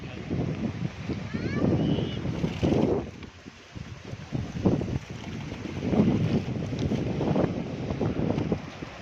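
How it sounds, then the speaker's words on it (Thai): A boat pushes against a strong floodwater current near a bridge, with rushing water and heavy wind buffeting the microphone, while someone speaks over the noise. "อันนี้กำลังจะผ่ากระแสน้ำนะครับ"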